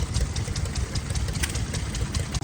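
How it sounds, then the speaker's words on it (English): A small old diesel engine in the back of a little tracked dumper runs steadily at a classic vehicle show in Norden, England, a loud, close, rough chugging idle with fast knocking pulses and no talk. "and they had little old diesel engines in the back."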